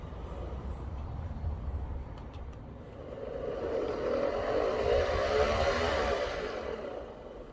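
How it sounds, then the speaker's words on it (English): Troglotech T815/T850 Lion Powered crawler and auto cable drum whirring steadily while the crawler steers on a flat surface, motor pitch dipping as the drum slows and rising again as it catches up, with no one talking. "Cable drum slows down while it's steering and then it catches back up again."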